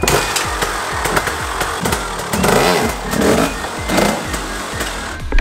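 A motorcycle engine sputters back to life and revs repeatedly, rising and falling in loud bursts close by.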